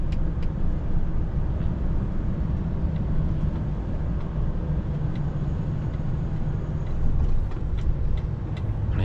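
Dense, steady road traffic crawls through congested London streets, a continuous low rumble of engines with occasional louder vehicles passing close by, no voices.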